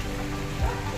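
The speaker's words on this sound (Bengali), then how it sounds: "দেখো বাইরে খুব বৃষ্টি হচ্ছে।" Heavy rain falls outside a balcony, a steady broadband hiss of drops on surfaces running throughout the moment with a brief low rumble partway through.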